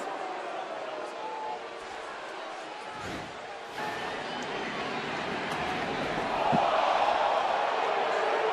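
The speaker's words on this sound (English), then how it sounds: "the crowd's certainly going to react" Packed crowd at a San Francisco baseball game reacting to a slipped breaking-ball pitch near Buster Posey, a broad sustained roar and murmur swelling toward the end, heard under a commentator's talk.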